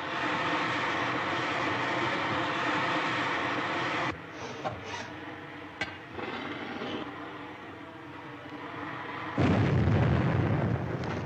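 Bombing explosions from a rocket ship attack in an old radio drama, a continuous roaring rumble broken by sharp bursts and a heavy blast near the end, loud and close with no talk.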